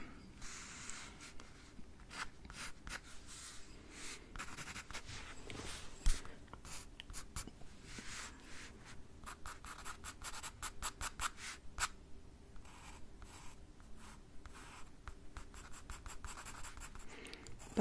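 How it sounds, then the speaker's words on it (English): Pencil scratching steadily across paper during a sketching lesson, a continuous close-up rasp of strokes with small bursts and no talking. "Okay, keep drawing, class."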